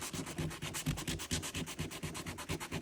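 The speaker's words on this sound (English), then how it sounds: "So I'm going to sand down, and that way the panel bond will have something to bite into." Sanding strokes on a damaged plastic car bumper of a Chevy SS, prepping the surface for panel bond adhesive; steady, close, rhythmic back-and-forth scraping with regular pulses, no talking.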